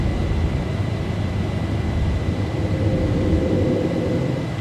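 A Boeing 737 taking off in X-Plane 11, a loud steady roar of jet engines with a faint constant whine and no talk.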